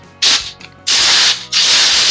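Three hissing bursts of compressed air from a blow gun cleaning a dirt bike carburetor: a short blast, a brief sputter, then two long, loud sustained blasts close by.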